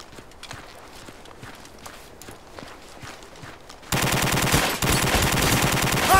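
Machine gun fire in the Army Men: Plastic Apocalypse video game, with faint, distant rattling and scattered shots that jump abruptly into a loud, dense, continuous burst near the end, no talking.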